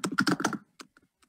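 Typing on a computer keyboard while building an online store page, a dense run of quick close clicks for about half a second, then a few sparse isolated keystrokes trailing off into near silence.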